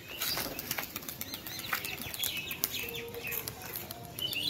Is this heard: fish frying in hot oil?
no